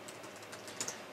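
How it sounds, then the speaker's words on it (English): Light, quick keystrokes on a computer keyboard as a short command is entered in a Linux terminal, a quiet cluster of soft clicks with a couple of sharper taps near the end. "And you just type in ADB"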